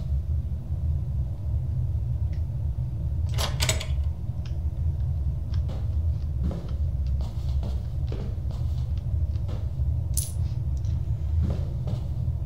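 Coins drop in the horror game Janitor Bleeds, set in an arcade, as several sharp metallic clinks scattered over a steady low mechanical rumble, with no talk.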